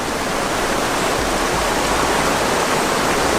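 Rushing water of the Rio Agrio in Costa Rica, seen from an unsecured bridge, a steady, loud, broadband roar with no breaks, close and continuous throughout.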